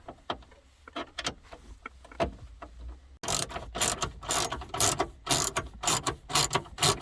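A ratchet wrench backs out 7mm screws holding the radio in a 2005-2010 Chevrolet Cobalt. Soft, sparse clicks give way to loud, rapid ratcheting close to the microphone.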